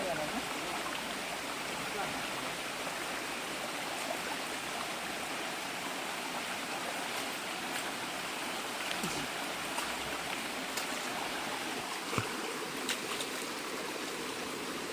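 Stream water flows steadily at a low level, with a soft, continuous rushing and occasional faint splashes and clicks along its course. No voices are heard over it.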